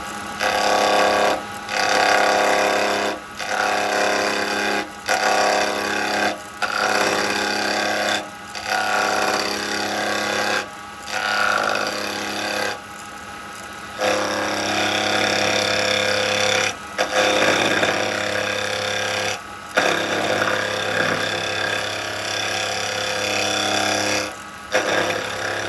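A wood lathe spins at around 2000 rpm while a carbide chisel shapes a three-cornered, hollowed, lidded box, giving a loud, continuous whirring hum with a scraping edge, broken by regular short pauses as the cut stops and restarts.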